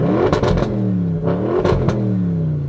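An Audi RS6 with an ABT exhaust line, no decat, revs from inside the cabin, with two sharp throttle blips that rise and fall over a loud, continuous engine tone.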